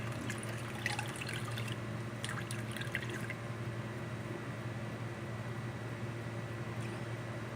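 A washcloth is worked in a bowl of warm water, giving light drips and soft splashes in the first few seconds before the sound settles into a quiet steady background.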